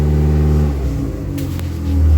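A Dodge Neon stock car engine runs close by, a loud, steady low idle rumble with a slight rise in revs toward the end.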